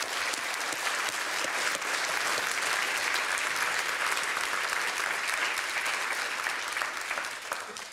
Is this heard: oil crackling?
no